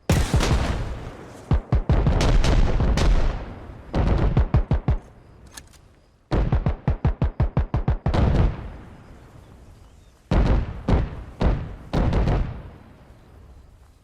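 In the video game Arma Reforger, loud bursts of rapid heavy gunfire and booming artillery blasts come in repeated volleys, separated by short pauses with rumbling decay.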